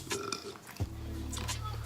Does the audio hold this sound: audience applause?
no